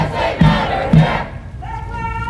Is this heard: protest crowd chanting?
yes